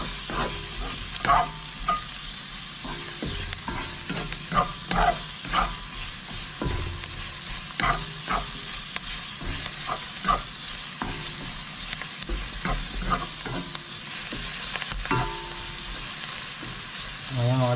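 Onions sizzle steadily in a hot pan while a utensil scrapes and stirs them in repeated knocks and scrapes, close up and moderately loud, alone without talk.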